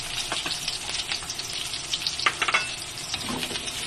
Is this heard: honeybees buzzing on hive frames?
no